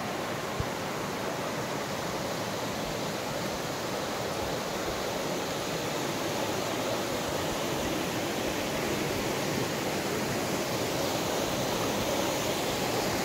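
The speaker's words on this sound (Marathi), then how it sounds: "फक्त धबधब्यांचा जो आवाज येतो तुम्ही पाहू शकता।" A waterfall along the Daryaghat route roars in a dense, unbroken wash of falling water, loud and steady throughout with no voices.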